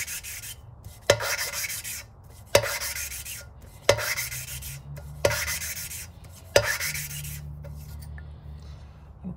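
Engine valve being lapped by hand with grinding compound, a steady gritty rubbing broken by about five sharp taps at regular intervals of roughly one and a half seconds.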